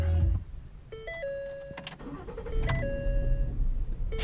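A 2014 Ford Taurus Police Interceptor starts up: an electronic chime and tones sound first, then a short starter crank and the engine catching into a low, quiet idle, heard close from inside the car.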